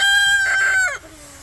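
A rooster crows loudly and close by on a homestead farm, one long harmonic call that rises and then trails off, alone with no talk.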